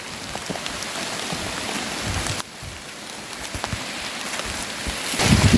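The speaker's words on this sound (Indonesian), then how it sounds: "Hujan. Hujan ya." Heavy rain pours steadily while gathering duku fruit in a windy orchard, a dense broadband hiss with a brief drop in level partway through and a louder surge near the end.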